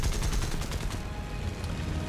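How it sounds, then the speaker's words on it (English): Aircraft cannon fire in the War Thunder video game, a fast, loud rattling burst of rapid shots lasting about a second and then trailing off into a rumbling wash. "Managed to get a nice bit of cannon fire in."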